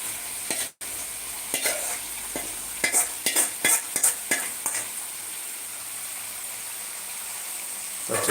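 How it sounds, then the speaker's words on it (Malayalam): Chicken pieces fry in a pan of wilted onions for a Kerala toddy-shop style chicken curry, with a steady sizzle broken by a series of close scraping stirs and clinks of the spoon, no voices. "ഈ വാടി വന്ന ഉള്ളിയിലേക്ക് ഈ ചിക്കൻ ഇട്ട് കൊടുക്കാം"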